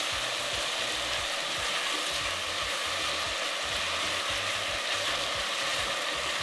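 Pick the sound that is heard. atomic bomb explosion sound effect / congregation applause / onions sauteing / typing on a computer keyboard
onions sauteing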